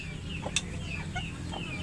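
Chickens cluck softly in short, scattered calls over a low background hum, fairly close.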